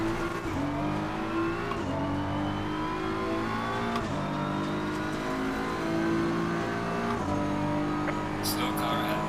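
Race cars in Assetto Corsa Competizione, an engine revving through repeated upshifts with rising pitch sweeps, loud and close throughout, ending with a brief squeal, while a voice talks over it.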